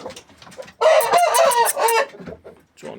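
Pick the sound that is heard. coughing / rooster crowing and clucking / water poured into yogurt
rooster crowing and clucking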